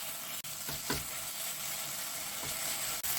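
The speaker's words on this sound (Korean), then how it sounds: "그래서 고기만 따로 이렇게 볶아주겠습니다" Thinly sliced meat sizzles in a hot pan while being stir-fried, a steady close frying hiss broken by a few scraping stirs of the spatula.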